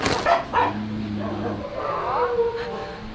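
A dog in Thailand gives a couple of short, close barks early on, followed by quieter yips, while people talk over it.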